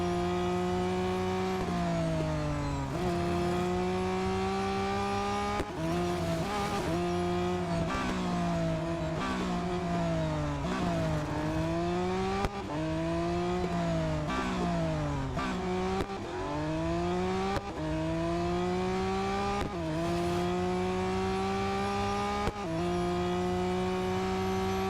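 A fully upgraded Lamborghini Veneno-type race car in Real Racing 3 screams through gear changes, its engine note rising and dropping in repeated sweeps, loud and continuous with no talk over it.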